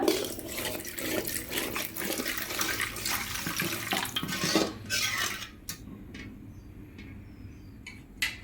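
Water rushes and splashes into a cooking pan of egg masala with some clinking of cookware, then the pouring stops, leaving a quieter spell with a few light clicks.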